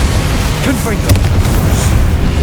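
Close, loud Confringo blasting spells from Hogwarts Legacy, a short series of booming bursts and crackling impacts over a steady low rumble.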